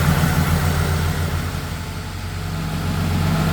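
A Porsche 911 with CIS fuel injection idles steadily at about 930–940 rpm after warm-up regulator tuning, a loud, even low rumble close by with no voices.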